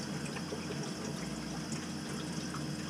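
Steady rushing of water running and draining from an Elkay drinking fountain with a slow-draining top basin, continuous and close, with a low pump-like hum underneath.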